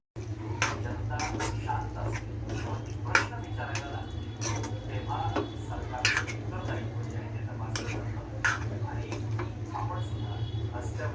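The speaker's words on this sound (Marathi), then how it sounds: "तर चांगली मसाल्यामध्ये आपण परतून घेऊया।" Prawns being sautéed in masala in a pan, heard as repeated utensil scrapes and clinks against the pan over a low continuous hum, with a person talking throughout.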